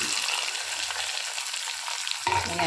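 Ginger, garlic and onion sauté in a hot pan, a steady crackling sizzle with a few stirring scrapes, the sound shifting slightly near the end as onion goes in.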